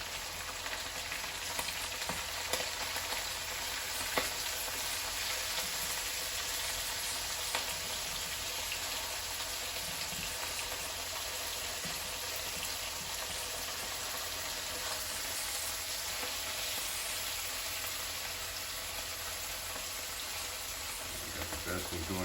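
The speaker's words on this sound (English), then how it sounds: "get my eggs scrambled up" Eggs scramble and fry in a pan alongside vegetables for fried rice, a steady broadband sizzle running evenly throughout with a few faint utensil taps.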